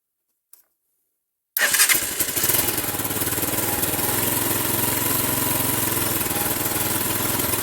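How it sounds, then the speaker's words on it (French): A Bashan quad engine cranks and catches after a short silence and a faint click, then settles into a steady, loud idle that runs to the end with no talk. "on ouvre l'essence. Hop, on met le contact. Il y a le starter et on y va."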